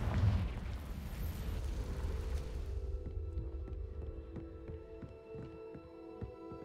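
Confringo blasting spell going off in Hogwarts Legacy: a loud, rumbling explosive burst at the start that decays into a lingering low roar with sustained magical hum and ringing tones, no talk.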